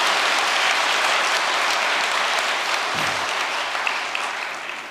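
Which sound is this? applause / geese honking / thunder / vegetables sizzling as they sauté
applause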